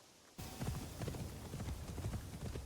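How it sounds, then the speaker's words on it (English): In Assassin's Creed Shadows, horse hooves clip-clop in a steady, close walking rhythm that starts abruptly and continues throughout. "El otro caballo."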